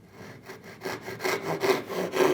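A hand saw cuts a wooden dovetail for a simple box, making close, quiet rasping strokes in an even back-and-forth rhythm that grow slightly louder as the cut deepens.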